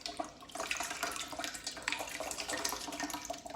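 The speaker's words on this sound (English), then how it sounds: "And then we're just gonna dump the water out." Soaking water is poured out of a sprouting jar, a steady splashing gush and trickle, close and fairly quiet, with no talking.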